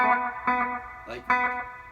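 Electric guitar played through a TC Electronic Flashback Triple Play delay pedal into a clean amp: bright chords ring out, each followed by fading echoed repeats, with a second strum partway through and the delay tails trailing off.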